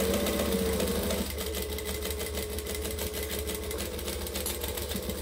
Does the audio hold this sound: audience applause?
no